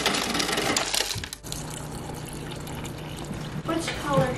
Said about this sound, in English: I need to fill this up with some more water.